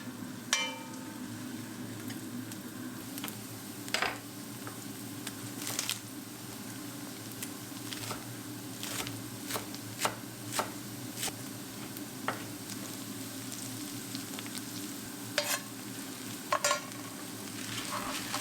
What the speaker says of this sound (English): going to first saute my diced onion with some mix of butter and olive oil